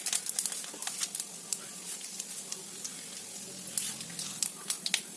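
Mustard seeds, cumin, urad dal and chana dal crackle and sizzle in hot oil during tempering, a faint, steady fizz broken by scattered small pops.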